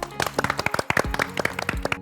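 Several people clap to welcome a guest on a cooking show set, a quick burst of close, uneven handclaps lasting about two seconds.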